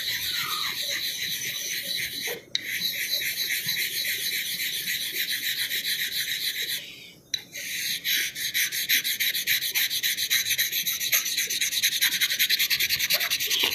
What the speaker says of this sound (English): Got a few more razors to hone on this one.